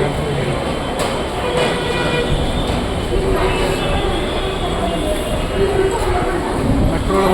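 A Kochi metro train rumbles steadily and close by, a continuous rolling roar with faint rail clatter, while people talk over it.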